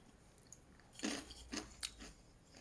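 Fried crunchy chickpeas, drained on a kitchen towel, being crunched: three sharp, close bites about half a second apart, each a short crackly burst over a quiet room.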